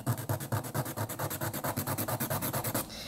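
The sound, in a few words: nail file filing a cracked fingernail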